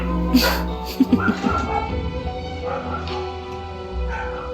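Small dog yips and barks in a Genshin Impact scene, a few sharp close yaps clustered near the start over a steady game soundtrack, with a voice speaking alongside.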